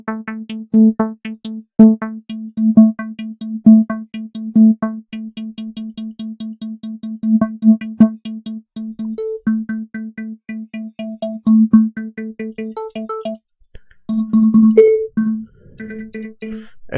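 Techno synth line in FL Studio with a phaser effect, a repeating pulsing pattern of short tonal notes, loud and upfront, sweeping and shifting near the end, with no voice over it.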